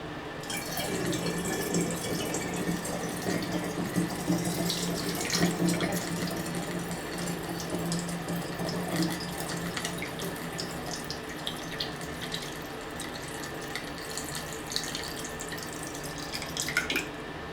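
Used C-41 film developing chemical solution poured out into a sink, a steady continuous splashing and running-water rush with faint drips, close and loud, with no talking throughout.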